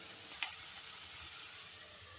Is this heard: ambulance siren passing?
no